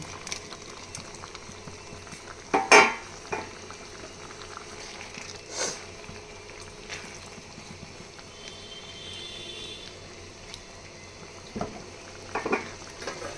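Gravy for taruli bubbling at a boil in a pot, a soft steady simmer with occasional louder pops and clatters, no talk.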